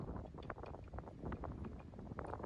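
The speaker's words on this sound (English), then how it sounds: "We probably hear the wind today in my microphones." Gusty wind buffets the microphones outdoors on a windy day near Portland Head Light, a rough low rumble that swells and drops continuously, with no clear voices.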